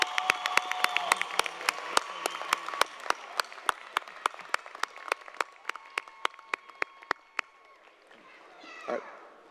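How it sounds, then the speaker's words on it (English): Applause at a college commencement for associate degree graduates in applied and engineering science. A hall of clapping is heard with sharp, evenly spaced loud claps standing out, and the clapping gradually thins out toward the end. "How about a round of applause for our Associate in Applied Science and Associate in Engineering Science degree graduates?"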